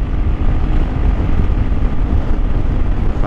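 Steady, loud wind rumble buffets the microphone throughout on a motorcycle ride near Mayon Volcano, Bicol, a dense low roar with no break, like riding fast in the open air.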